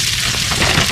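Diced pancetta sizzles and crisps in a stew pot, a steady, close crackling hiss heard alone for a brief moment.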